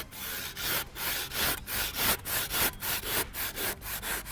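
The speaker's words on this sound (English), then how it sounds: "So here we've got a standard timber handsaw. Due to the aerated nature of evo-crete, it cuts quite easily" Timber handsaw cutting through an aerated evo-crete foundation block, quick regular back-and-forth rasping strokes, close and loud, about a dozen strokes with no talking.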